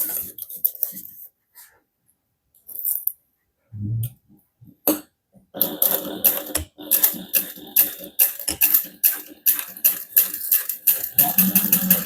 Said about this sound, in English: I'm going to baste it together using a 1/4 inch seam allowance